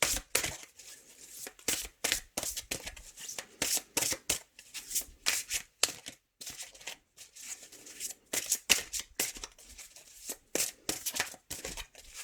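Tarot deck shuffled by hand for a love reading, dense rhythmic riffles and card slaps repeating in quick bursts throughout, close and crisp with no talking.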